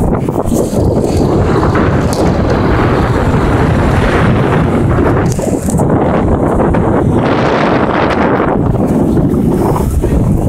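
Strong wind of about 40 km/h roars and buffets the microphone continuously, loud and unbroken, with a rushing, water-like texture throughout, on a bike path.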